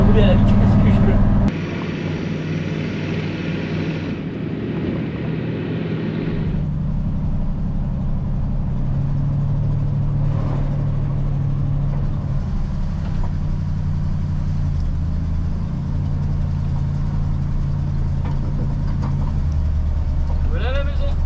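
Car driving along a road in Ecuador, a steady engine and road hum close by running under a man's speech, with a louder rushing burst in the first few seconds.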